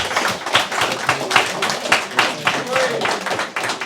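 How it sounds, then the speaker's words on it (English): A crowd at a fight press conference claps in a loose, uneven burst of applause, with voices mixed in beneath. "Let's give him a round of applause just for that."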